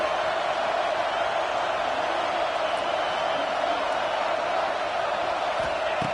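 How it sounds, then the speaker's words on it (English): Stadium crowd noise from a video game football match, a steady, dense roar of cheering held at an even level throughout, with no distinct voices standing out. "the crowd coming to life here, trying to help this defense down in the red zone"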